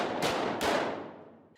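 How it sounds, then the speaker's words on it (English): Two sharp, loud gunshots a fraction of a second apart ring through the halls of a high school during an active shooter training drill, each followed by a long echoing decay. "The sound of gunfire rippling through the halls of Cooperstown High School is a sound that no one wants to hear."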